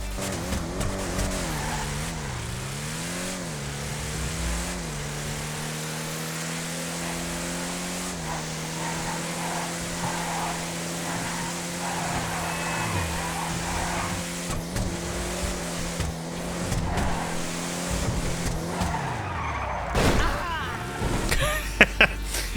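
Off-road vehicle in the video game GTA 5 Online, its engine revving and climbing through gears in a long sustained drone, with tire noise and a few sharp knocks and impacts near the end.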